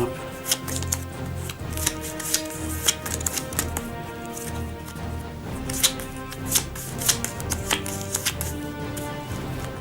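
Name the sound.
mixing cards for the DungeonQuest board game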